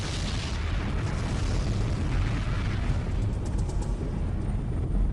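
A sustained, roaring rumble with heavy low-end energy and broadband noise, continuous for several seconds, from a large explosion in the sky heard at a distance.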